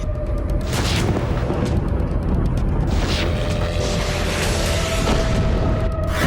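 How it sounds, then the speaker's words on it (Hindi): A string of deep booms and thuds from explosions in Donetsk during wartime, several heavy blasts in a row over a continuous rumble, loud and forceful. "सोमवार की रात डोनेट्स्क में कई जगहों पर धमाके हुए।"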